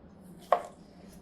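A single crisp knife stroke cuts through a yellow bell pepper on a cutting board, one short sharp chop in a quiet kitchen with no talking.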